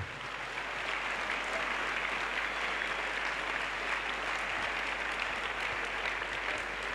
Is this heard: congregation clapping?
yes